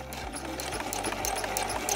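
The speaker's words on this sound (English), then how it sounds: "Now I'm going to sew along the inside edge about 1/8 inch away from the top edge" A sewing machine stitches around the top edge of a small lined drawstring bag made from fabric scraps, its motor humming close and steady with a rapid rhythmic needle clatter, no voices.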